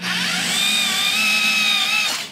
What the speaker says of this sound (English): So, now it's time to drill holes.